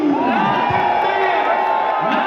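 A large crowd in Goma cheers and shouts to welcome the DR Congo national football team. The sound is loud and steady, with whistles and whooping voices over a dense, continuous roar.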